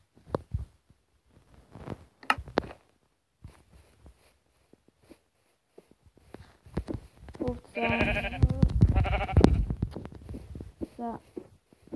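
Sheep bleat several times in a blocky survival-building video game, the calls loud and close, in a dense burst near the middle, while a player talks over the scattered in-game sounds.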